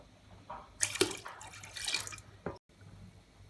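Salt water poured from a container into a large bucket while mixing a biofloc starter, giving short splashing pours with drips, close by and moderately loud, followed by a brief pause and quieter trickling.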